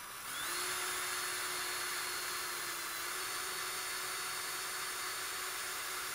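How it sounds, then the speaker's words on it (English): An electric drill bores through copper, spinning up after a brief start into a steady high whine that holds evenly, close and alone, with no talking. "here we're going to drill a hole through the copper."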